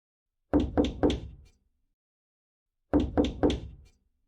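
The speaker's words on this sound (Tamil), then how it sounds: "யாரோ கதவை தட்டுறாங்க, போய் பாருங்க." Knocking on a door in a staged Tamil drama: two bursts of three firm, close knocks each, separated by a couple of seconds of silence, with no voices.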